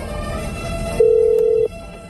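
A telephone rings once on a radio call-in line, a steady electronic ring tone lasting under a second over a background of studio room noise.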